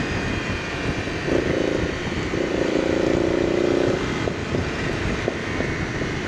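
A Yamaha motorcycle passes close by on a country road, its engine note rising and fading over a few seconds under heavy wind roar on the rider's helmet microphone.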